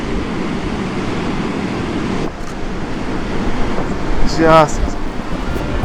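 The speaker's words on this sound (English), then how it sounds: "I'm going to try and get some shots of the waves hitting Lion Rock" Ocean waves crashing against Lion Rock, a constant roaring wash of surf mixed with wind buffeting the microphone, with a brief voice heard at one point.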